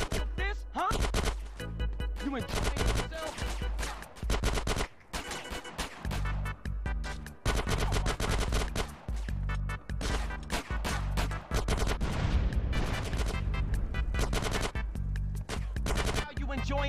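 Gunfire in GTA San Andreas, loud rapid bursts of shots in irregular clusters with brief gaps, driven over game music and sound effects.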